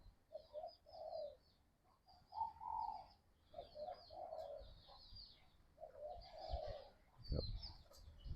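A large dove (wild-caught spotted dove type) coos repeatedly outdoors, a steady series of deep rounded coo phrases close to the microphone, with faint chirping birds in the background and a brief thump near the end.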